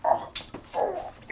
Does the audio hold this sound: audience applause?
no